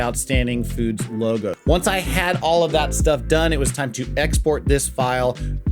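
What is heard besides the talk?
No distinct noise like a dog, phone or traffic.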